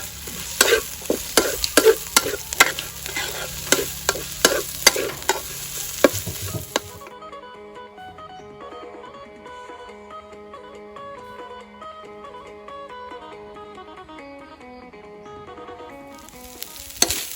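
Rapid scraping strokes of a spatula in a wok over sizzling spicy stir-fried frog, then the clatter stops and a music track plays for a while.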